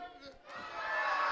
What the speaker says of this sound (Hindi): बच्चों आप मिलके जोर से नारा लगाना है ताकि जिन फट जाए